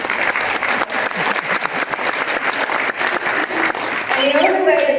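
An audience at the Mumford 2020 graduation ceremony gives loud, sustained applause with dense, steady clapping throughout, and a voice begins near the end.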